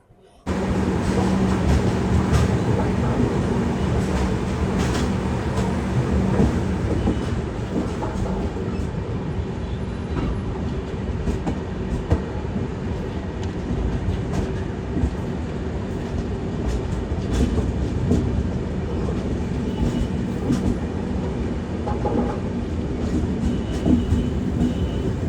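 The Mumbai–Kochuveli Garib Rath Express runs out of Thrissur station on its way toward Ernakulam Town, a loud, continuous rumble of rolling carriages with repeated wheel clacks and rattles, heard from on board.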